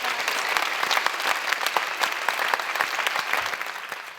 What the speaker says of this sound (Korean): 뜨거운 박수 한번.